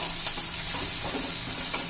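Onions sizzle in a hot pan with a bright steady hiss, broken by a few soft stirring scrapes.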